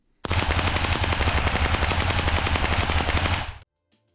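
A sustained burst of rapid automatic spatialized gunfire with pitch variation from a first-person shooter game, loud and continuous for about three seconds, then stopping sharply into silence.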